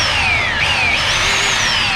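A trigger-operated belt sander running steadily, a loud continuous whir with high whining tones that dip and rise slightly as it works.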